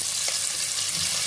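Onions sauté in hot oil with ground masala and curry leaves for a country chicken curry, a loud, dense, continuous sizzle with no pauses.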